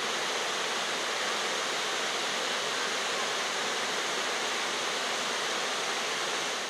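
Bash Bish Falls on Bashbish Brook, split into two falls by a huge granite boulder at the end of a long ravine, roars in a steady, loud, unbroken hiss of falling water.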